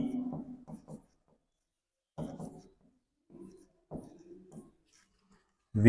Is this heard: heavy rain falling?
no